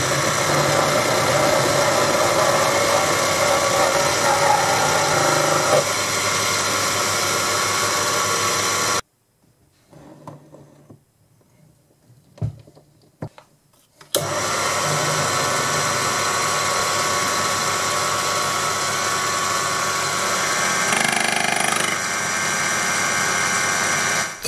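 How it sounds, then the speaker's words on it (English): A small Proxxon PD 250/e benchtop lathe turns a narrow steel shaft held by the tailstock center, taking rough passes through mill scale. A steady, loud motor whine and cutting hiss run throughout, broken by a few seconds of near silence with faint clicks. "The first couple of passes were very rough. This small lathe can't cut deep enough to go through the scale"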